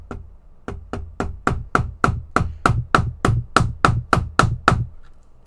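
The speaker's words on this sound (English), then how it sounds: "you hammer it in until those pins are flush" Steady metal hammer strikes driving pins into the track links of a 1/16 scale Leopard 2A6 tank model, about fifteen sharp, evenly spaced blows close up, ringing briefly, pausing after the first then continuing in a regular rhythm.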